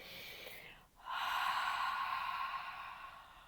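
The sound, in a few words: Ujjayi pranayama breathing, throaty exhale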